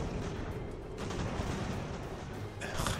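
Musket volley fire from line infantry in Ultimate General: American Revolution, Continental troops against Redcoats: a steady, muffled crackle of massed shots rolls along without pause, fairly faint and distant-sounding.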